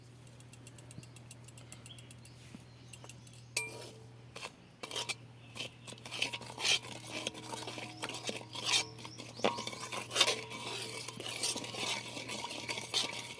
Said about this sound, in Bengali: এবার আমি একটু ভালো করে নেড়ে নেবো গুঁড়ো করে রাখা মশলাটা আমি দিয়ে দেবো তেলের মধ্যে